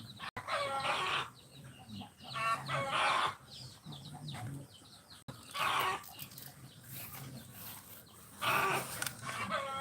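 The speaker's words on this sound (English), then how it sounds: "I'm not sure why that chicken's so loud." A chicken on a farm gives loud, repeated bursts of clucking and crowing in several separate calls, with quieter background noise between them.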